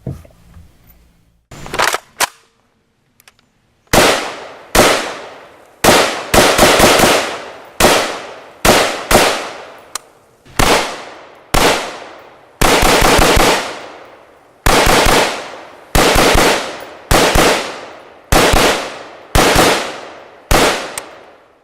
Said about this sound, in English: So as you saw from a couple of those quick clips of firing